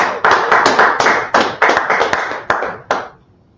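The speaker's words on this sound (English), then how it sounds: "Clap it up for Shaka." Members of a Sabbath service congregation in Harlem, New York clap together in a loud burst of bright, uneven hand claps with a few sharp accents, then taper off and fade after about three seconds.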